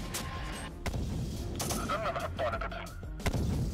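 Gunfire rattles through a Syrian Warfare battle, with repeated shots and bursts against a busy background of combat noise and voices.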